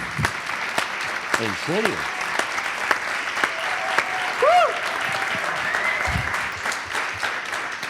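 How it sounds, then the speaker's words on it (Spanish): Studio audience applauding for Andrés during a Spanish talk-show interview, a steady broad wash of clapping lasting throughout, with a brief spoken question over it. "¡Un aplauso para Andrés!"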